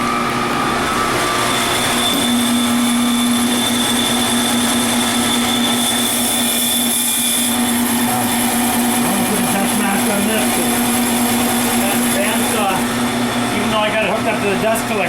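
A workshop dust collector runs loudly and continuously with a steady motor whine and airy roar, with faint air conditioning hum behind it.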